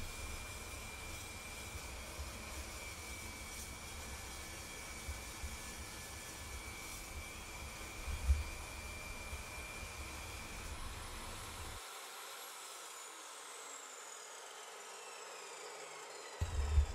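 A DeWalt DW872 metal cutting saw slices through 2-inch 1215 cold rolled steel with a sustained, fairly faint high whine and grinding hiss that holds steady, then shifts pitch near the end as the cut finishes.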